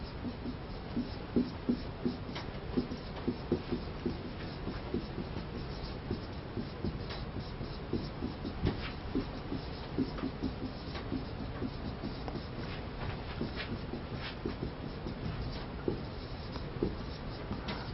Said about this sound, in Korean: 지체기에서부터 한번 제가 써볼게요